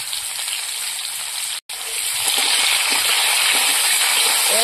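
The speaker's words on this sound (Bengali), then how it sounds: "কুমড়োটা ভেজে নেব।" Pumpkin pieces fry in a pan with salt, turmeric and a little sugar, giving a steady close hiss of sizzling oil that briefly cuts out, then resumes a touch louder and continues without voices.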